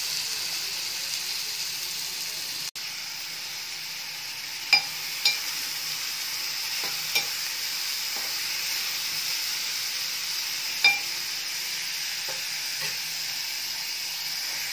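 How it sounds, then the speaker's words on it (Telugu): Chopped green chillies and onions are frying in hot oil for a tomato cashew drumstick curry, giving a soft continuous sizzle and hiss with a few faint clicks of a utensil, fairly quiet and close. "కట్ చేసి పెట్టుకున్న పచ్చిమిర్చి ఉల్లిపాయలు వేస్తున్నానండి."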